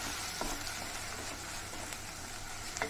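Onions fry in coconut oil with ginger and green chilli for a Kerala-style fish curry, giving a steady close sizzle with a few faint stirring clicks and no talk.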